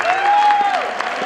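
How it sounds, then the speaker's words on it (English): Crowd applause and noise at a homecoming event for a four-time state champion wrestling team, a loud, close, continuous wash of clapping and voices with a sustained tone running through it, brief. "You guys need to applaud yourselves."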